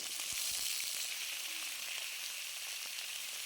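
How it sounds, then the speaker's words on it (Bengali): Potatoes and pointed gourd fry in hot mustard oil with a continuous hissing sizzle, broken by a few soft knocks of stirring early on. "আলু কাঁকরোল খুব ভালো করে ভেজে নেব আমি।"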